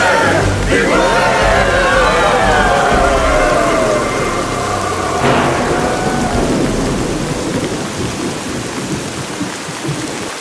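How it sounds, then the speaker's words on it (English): Cartoon-style rain and thunder effect: a loud rumbling thunderclap over steady heavy rainfall, with a second crack around midway, then the rain hissing on alone as it slowly fades. "Is it raining in there? It's raining out here too."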